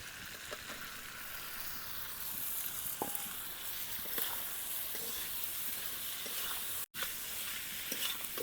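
Boiled kochur loti (taro stolons) go into a pan of oil and chili powder being cooked with prawns, giving a continuous close sizzle with stirring scrapes and occasional clicks.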